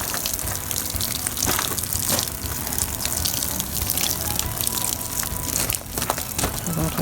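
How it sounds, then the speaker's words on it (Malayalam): Liquid fertilizer is poured onto a vegetable bed in a steady, close gushing splash that runs continuously for several seconds. "ഇനി നമ്മുടെ വെജിറ്റബിൾ ബെഡിലും നമുക്ക് നമ്മുടെ ഫെർട്ടിലൈസർ"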